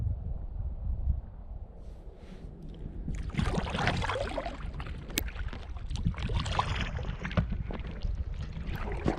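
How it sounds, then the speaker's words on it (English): Canoe paddled across a lake, steady watery sloshes and drips from the paddle strokes over a constant windy rumble, close to the microphone. "Should be easy paddling home."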